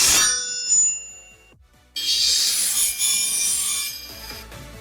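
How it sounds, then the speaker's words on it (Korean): An AI-generated sword swing effect for a game, with most of its metallic ring removed, gives a bright ringing onset and then a loud airy sweep with a dull rasping texture, heard alone and up close. "다음은 마지막으로 칼 휘두르는 사운드 하나만 더 영상에선 보여드릴게요"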